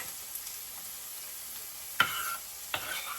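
Finely chopped onions and garlic frying in a pan for chicken chow mein, a quiet steady sizzle broken by two sharp clinks or scrapes of a utensil, close and without speech.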